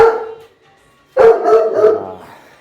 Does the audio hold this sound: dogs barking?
yes